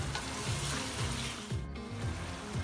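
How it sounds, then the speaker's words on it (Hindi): Chicken sizzles steadily with green chilies in a hot pan, a continuous close frying crackle with faint stirring, no talk. "अब इसके साथ हम इसकी भुनाई करेंगे, ये 2 से 3 मिनट मैंने इसको भून लिया है हरी मिर्चों के साथ"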